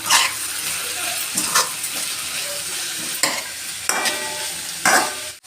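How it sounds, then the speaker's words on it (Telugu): Spiced broad beans fry in oil while a spoon stirs them, giving a continuous sizzle broken by several sharp scraping strokes against the pan, close and fairly loud. "ఒక నిమిషం పాటు వాడిన తర్వాత మనం దచ్చిపెట్టుకున్న మసాలా ఇందులో వేసేద్దాం బాగా కలుపుకుందాం"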